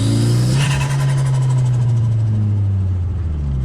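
A turbocharged Toyota Yaris bought cheaply on eBay pulls hard around a race track, its engine note droning loud and close with a steady, slowly sliding pitch, no talk over it.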